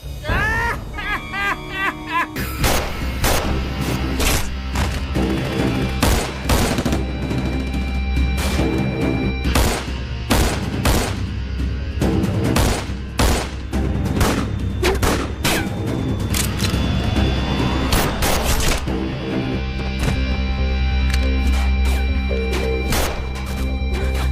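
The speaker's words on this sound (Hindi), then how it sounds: "शंकर घर पे फायरिंग कर रहा है, जल्दी से बैकअप भेजो, फास्ट" Gunfire during a shooting attack on a house in a Hindi comedy film, rapid sharp shots and crashes in irregular bursts over a steady background score, with voices heard between volleys.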